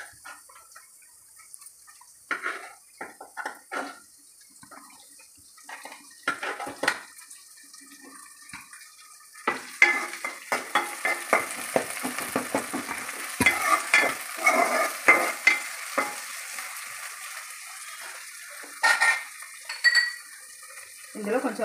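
Chopped onions frying and being stirred in a pan for Telugu okra (bendakaya) curry after green chillies, with intermittent sizzling and scraping bursts growing busier midway, close and moderately loud.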